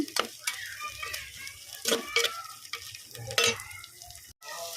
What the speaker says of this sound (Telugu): మెంతి కూర కరివేపాకు వేస్తున్నా మెంతి కూర కరేపాకు బాగుంటుంది అట్లనే అల్లం వెల్లిగడ్డ కూడా వేసేస్తున్నా ఇవన్నీ కూడా మంచిగా వేయించుకోవాలి